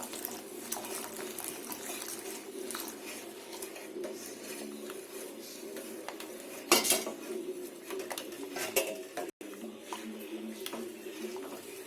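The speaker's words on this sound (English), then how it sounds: "now you have to add the corn flour mixture into the hot milk. You have to mix while adding." Corn flour mixture whisked into hot milk in a pot, a continuous rapid clinking and scraping of a utensil against metal, close and fairly even, with one louder clatter partway through.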